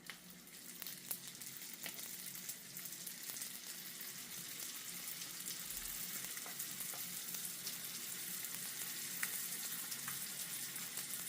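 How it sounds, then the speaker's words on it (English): Garlic sizzles and crackles steadily in hot oil, a continuous close frying hiss with small pops and no voices, the oil hot enough to brown the cloves quickly. "you can see the oil get hot because the garlic start turning brown"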